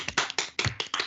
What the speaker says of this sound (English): If it compiles, I want claps, okay? I want big claps.